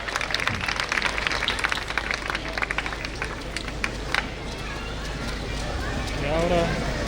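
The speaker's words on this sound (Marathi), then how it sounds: "सरांसाठी एकदा जोरदार टाळ्या." Applause at a school event welcoming a guest onto the stage: a sustained burst of crowd clapping, dense and fairly close, running through the whole stretch with a voice coming in near the end.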